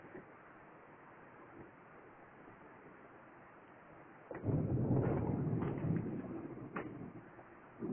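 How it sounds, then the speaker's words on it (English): A thunderstorm with rain falling steadily, quiet at first, then a loud rumbling surge of thunder rolls in midway and keeps growling through the end. "It's storming."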